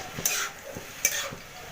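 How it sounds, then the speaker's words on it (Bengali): Bottle gourd frying in a pan as it starts to release water, a steady sizzle under two sharp stirring scrapes, close and moderately loud with no talk. "লাউটা হালকা মতন ভাজা ভাজা হয়েছে এটা থেকে জলও ছাড়তে শুরু করে দিয়েছে"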